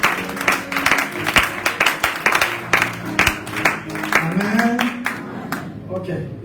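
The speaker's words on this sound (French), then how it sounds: "Nous acclamons très fort le Seigneur." A church congregation claps rhythmically and loudly at a prophet's seminar, steady beats over a busy crowd with voices cheering and singing throughout, the claps thinning toward the end.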